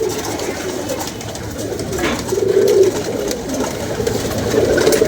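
Several pigeons coo nearby, with soft, rolling, throaty calls repeating over a steady bed of background noise.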